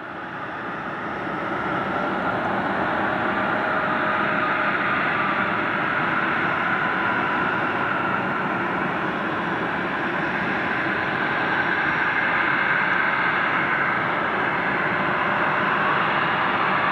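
A Bombardier Global Express jet arriving at Luton Airport gives a steady, broad engine roar that rises in the first seconds and holds loud and continuous for the rest of the clip.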